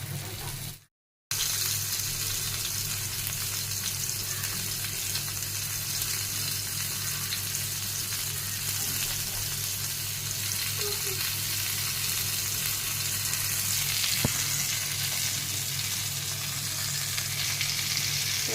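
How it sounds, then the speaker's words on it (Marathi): Two bangda (mackerel) fish fry in hot oil on a tawa over a low gas flame, giving a continuous even sizzle that runs almost the whole time after a brief silent gap near the start, with no voices over it. "आता आपण आहे ना स्लो गॅसवर हे दोन्ही बांगडे छान असे भाजून घेणार आहोत म्हणजे फ्राय करून घेणार आहोत"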